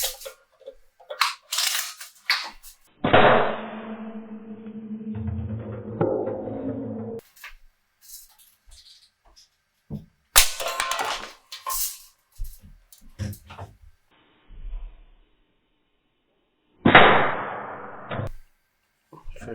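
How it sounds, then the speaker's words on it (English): A Sheridan Cowboy BB rifle fires at two empty Coke cans, with a few sharp snaps and metallic hits spread out between quieter handling noises and long pauses. "Here are 2 Coke cans, and I'm going to shoot them with a BB gun."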